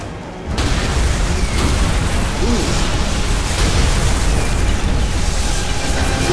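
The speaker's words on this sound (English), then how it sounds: "Where's the fireworks? Tell me those charges weren't duds." Demolition charges go off in Call of Duty: World at War, a sudden loud blast followed by a sustained roaring rumble of debris and fire that fills the whole stretch without speech.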